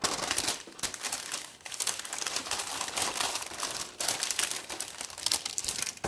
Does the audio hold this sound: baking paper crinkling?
yes